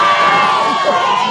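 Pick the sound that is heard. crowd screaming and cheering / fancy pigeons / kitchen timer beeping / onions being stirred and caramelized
crowd screaming and cheering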